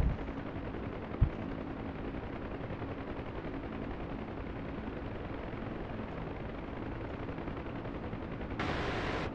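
Gunfire from a helicopter in the DCS World flight combat game, a dense continuous rattle of rapid shots over a steady rotor and engine roar, loud and unbroken throughout, with one sharp bang near the start.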